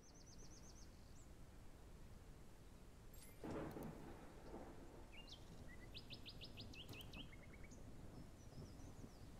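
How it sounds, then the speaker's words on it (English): A thunderstorm in the video game A Hero's Rest: faint steady rain hiss with one soft rumble of thunder midway and scattered bird chirps over the top, no voices. "Storm is coming."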